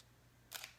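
A Nikon D750 fires its electronic shutter once, a single brief, quiet click in an otherwise still room.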